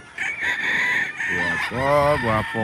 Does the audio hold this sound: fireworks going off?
no